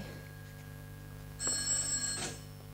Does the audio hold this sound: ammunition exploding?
no